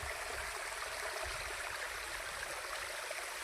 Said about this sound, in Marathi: बघू शकता हे वरतून येतं आहे डोंगराचं पाणी